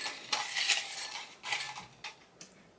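Paper question slips stirred around inside a bowl, giving bursts of dry rustling and light scraping that come and go in uneven waves, close by and fairly quiet.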